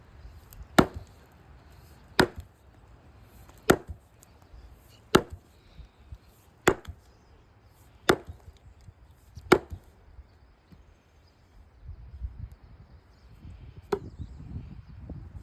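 Sharp axe strikes into wood with a newly hafted wedgebanger axe, about nine evenly spaced chops with pauses between them, then softer rustling and handling noise at the end.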